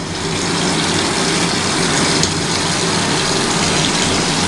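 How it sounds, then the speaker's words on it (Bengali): Water pours into a pot for khichuri in a loud, steady gushing rush that carries on unbroken for several seconds without any talk. "একটু সামান্য একটু পরিমাণ জল দিয়ে দেওয়া হলো"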